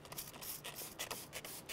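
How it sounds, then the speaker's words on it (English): An all-purpose wheel and tire cleaner is sprayed onto a car tire in quick, close, soft hissing bursts with faint rubbing between them. "now that it's wet, we're going to apply our wheel cleaner, our tire cleaner"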